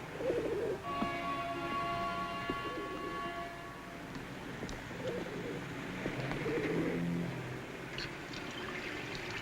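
Pigeons coo in soft repeated low calls amid a busy background hum, with a long tonal whine fading out early on.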